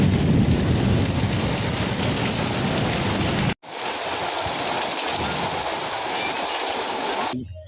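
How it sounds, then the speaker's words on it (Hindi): Heavy rain pours down in a village during a wedding, a dense, steady hiss that cuts out abruptly midway, then resumes with low rumbling thumps underneath before stopping at the end. "देखो बहुत बारिश हो रहा है"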